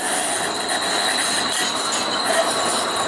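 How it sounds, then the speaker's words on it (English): A passing train rumbles steadily with a high thin wheel squeal running throughout, loud and continuous with no voices. "Hello, train."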